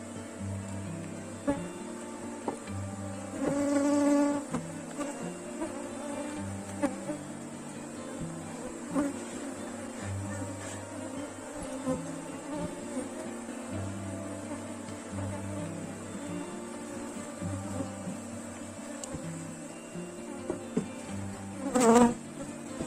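Honeybees buzz steadily around a freshly made three-frame hive split, a dense close hum with occasional louder passes as individual bees fly near, no talking.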